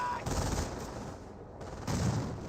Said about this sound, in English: It does get gunned down by the motorcycle.